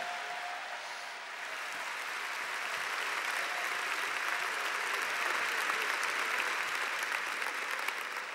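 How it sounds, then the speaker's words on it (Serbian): A concert audience at Sava Centar applauds the Ivo Lola Ribar choir: broad, even clapping from a large hall crowd that holds steady and grows slightly fuller toward the end. "Jedan aplauz za njih."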